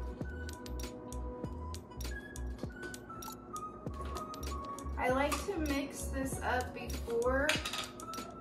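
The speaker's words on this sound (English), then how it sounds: "I like to mix this up before I add my coffee in, so that the chocolate mix is mixed well" A spoon clinks against a cup while stirring sugar-free peppermint mocha mix into half and half, giving light rhythmic taps with faint clatter, while someone talks over it.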